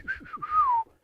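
A single short whistled phrase imitating speech in a whistled language, with a few sliding, pitch-shifting notes ending in a long falling tone, close and clear.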